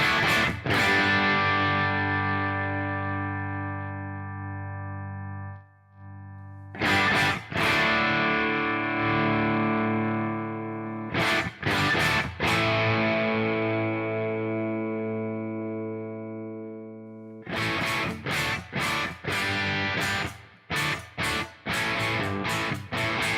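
Distorted electric guitar chords struck loudly and left to ring out, then bursts of chugging rhythmic strums, with heavy overdriven tone from a simulated Marshall JCM amp and no talk.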